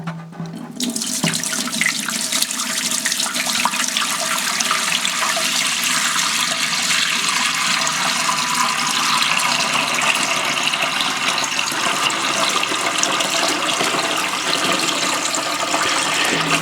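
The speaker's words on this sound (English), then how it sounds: "We're going to use 2 gallons of water." Two gallons of tap water gush steadily into a container for brewing Japanese sake, a loud continuous splashing rush from start to finish.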